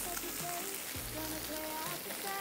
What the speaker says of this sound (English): over up here in Maui, just starts pouring rain